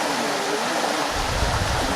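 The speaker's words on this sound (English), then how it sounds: "That's a pretty fast moving river." Fast-moving river water full of tannins rushes past steadily, a loud continuous broadband roar with a deeper low rumble building in the second half, and no voices.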